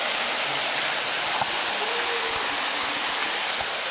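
Steady rushing water poured into an outdoor thermal hot spring pool as it fills at the Termas de Guaviyú, a continuous broadband splash and gush held at even loudness throughout.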